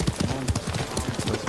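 Horse hooves clip-clop steadily in a video game, a quick run of close, even steps with faint speech-like sounds under them.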